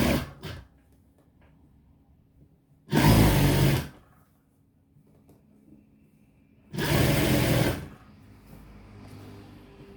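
A sewing machine stitches a blouse in two short bursts of about a second each, separated by quiet pauses in which faint handling noises are heard.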